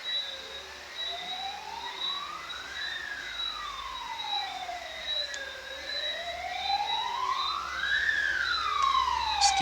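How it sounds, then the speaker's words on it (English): An emergency vehicle siren wails outside, its pitch sweeping slowly up and down in long rising and falling arcs over a steady high tone, moderately loud and continuous throughout with no talking. "Excuse the siren."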